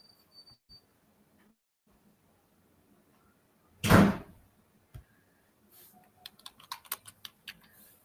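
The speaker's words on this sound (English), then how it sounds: "Y'all gonna be hearing my door because the children are going in and out." A house door bangs once loudly as children go in and out, followed by a lighter knock and a run of small clicks and taps, heard indoors against quiet background.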